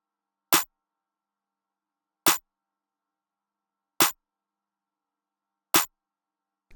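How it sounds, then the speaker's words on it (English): Four sharp clap hits from the One Scared MW2 stash kit, evenly spaced and isolated in silence, crisp and bright. "Then I added this clap also out of One Scared MW2 stash kit"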